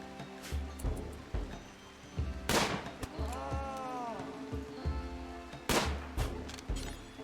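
Colonists firing guns in the Rimworld video game: sharp, separate shots at irregular intervals over a low hum, with a few louder cracks standing out.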